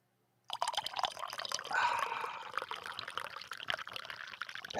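A hot drink is poured into a mug as a continuous, close liquid splash and trickle that starts suddenly after a brief silence and keeps going, with no talk over it.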